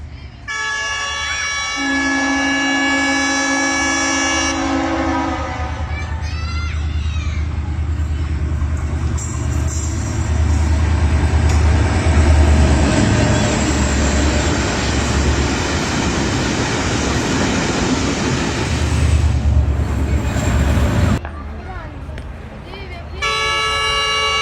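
A freight train pulls into Chakpirana railway station in Pakistan. Its loud horn blasts at the start and near the end, and a long, heavy rumble of passing wagons fills the middle.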